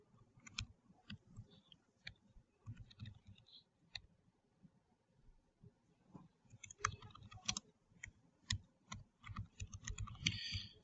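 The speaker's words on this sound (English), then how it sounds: "I can just go ahead and type in all of the field names" Field names are typed on a computer keyboard in quick, irregular bursts of light key clicks, close and fairly quiet, with short pauses between words.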